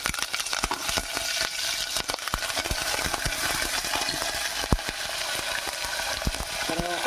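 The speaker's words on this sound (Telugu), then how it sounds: "మళ్ళీ కరివేపాకు వేసుకోవాలి కదా" Curry leaves hitting hot oil in a pan while preparing a festival prasadam dish, giving a loud, steady crackling sizzle with sharp spitting pops throughout, no voices.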